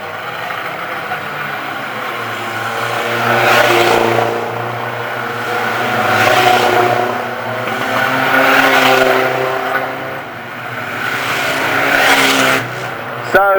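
Race cars roar around a stadium oval at night during the closing laps of a heat, engine noise swelling and fading in repeated loud passes with some tyre noise.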